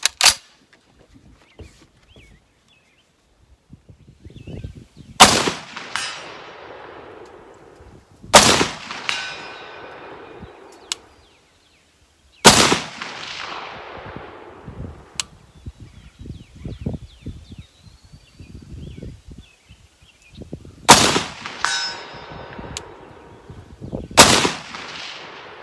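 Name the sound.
Springfield M1A Socom 16 rifle shots hitting steel at 200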